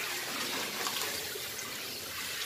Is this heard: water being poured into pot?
yes